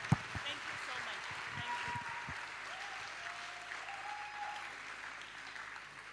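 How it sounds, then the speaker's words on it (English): Audience applause at a youth and climate plenary session, a steady wash of clapping from a large room that stays even in level and fades slightly toward the end. "another round of applause to Telda."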